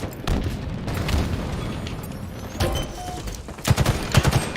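Shotgun blasts and other gunfire in a multiplayer video game, loud bursting shots in irregular clusters, the last few in quick succession near the end.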